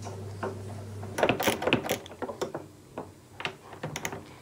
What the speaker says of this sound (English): So it's just some 10mm head bolts going all the way around. It holds the tub together. So I'm just undoing these at the moment.